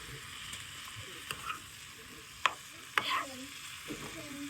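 Mushrooms are stirred in a frying pan while cooking for shrimp and broccoli alfredo. Soft, low sizzling runs under a few sharp clinks and scrapes of a utensil against the pan. Quiet and close, with no talk.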